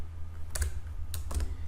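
Light keystrokes on a computer keyboard while C code is typed, a few soft clicks in two small clusters over a steady low hum.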